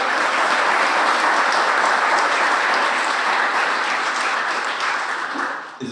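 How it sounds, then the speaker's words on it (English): A large audience gives loud, sustained applause for Paralympic swimmers at a water safety event, a dense, even roar of clapping that holds steady for several seconds before thinning out at the very end. "Yep, big round of applause"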